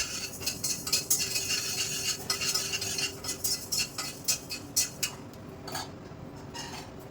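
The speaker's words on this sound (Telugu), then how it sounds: "ఆవాలు కూడా చిప్పట్లు ఆడి మీకు సౌండ్ తెలుస్తుందా" Mustard seeds spluttering and popping in a dry pan without oil while cooking kanda bachali, a run of sharp irregular crackles and pops, some close and loud, thinning out toward the end.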